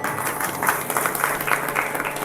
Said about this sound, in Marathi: या माऊलीसाठी टाळी वाजवा.